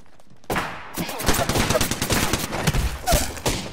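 Rapid bursts of video game gunfire, a loud stream of overlapping shots ringing out close in a multiplayer match, with a voice talking over part of it.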